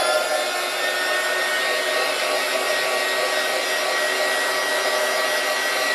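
A hot air blower dries gesso on a tin can with a loud, steady whooshing roar and a faint whine, running continuously and close by with no speech.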